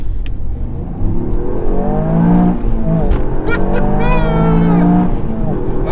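A Toyota GR Yaris with a 1.6-litre three-cylinder engine pulls along a country road, heard from inside as a loud, steady drone that climbs in pitch through the gears, while someone speaks over it.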